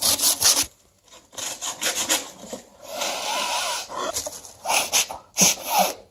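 Quick rubbing on a very old piece of poplar wood, close scraping strokes in several bursts separated by short pauses, loud and without talk.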